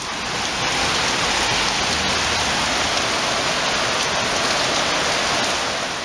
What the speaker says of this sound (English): Yep, it's still raining.